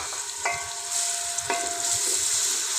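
Chopped onions hit lightly heated ghee for a masala beef kofta, with a couple of soft clinks first and then a steady, close sizzle that swells and holds to the end.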